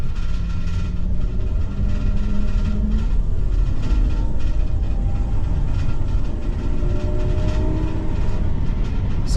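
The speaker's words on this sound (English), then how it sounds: "They're braking." Steady low road rumble and engine drone inside an E450 RV during a brake test, continuous and fairly loud throughout, with faint tire and cabin noise and no talk.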